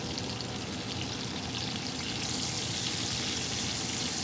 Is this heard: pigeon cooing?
no